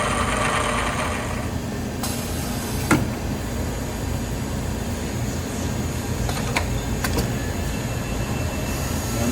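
A Tsugami BS20 CNC Swiss lathe loads a bar, giving a steady mechanical hum and rumble with a few sharp clanks and metallic ticks scattered through it, close and continuous with no talking.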